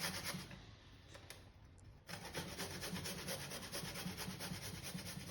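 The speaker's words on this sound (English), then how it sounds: "take 1 inch of ginger, grate it nicely" Fresh ginger, about an inch of it, is grated by hand, a close, continuous scratchy rasp of quick regular strokes that pauses briefly and then resumes more steadily.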